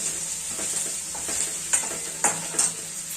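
Chili powder fries in a pan for a chana dal pithla, a steady high sizzle with a few stirring scrapes and knocks from a spoon, close and moderately loud, with no voices.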